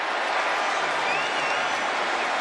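A dense, steady roar from a stadium crowd at an NFL football game with many Eagles fans, loud and continuous without pause.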